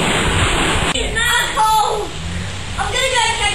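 Hail and water rushing out of an overflowing gutter during a hailstorm, a loud continuous waterfall-like roar, with people talking over it.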